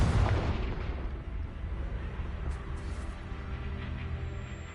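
A Confringo blasting spell explodes in Hogwarts Legacy, opening with a loud boom that decays into a long rumbling roar of debris and crackle.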